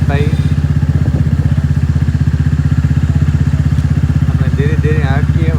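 A Bullet motorcycle thumps along slowly on a rain-flooded village road, its loud, close single-cylinder beat steady throughout while someone talks over it.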